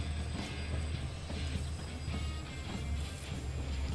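A train in Train Simulator rumbles steadily while switching cars into a siding, with a continuous low rolling drone and faint clanks, loud and unbroken throughout.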